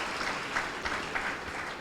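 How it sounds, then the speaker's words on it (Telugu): A church congregation at a live prayer service in Uppalaguptam claps together, a soft, even patter of many hands that stays steady and somewhat distant, without talking. "అందరూ కూడా గట్టిగా చప్పట్లు కొడదాం."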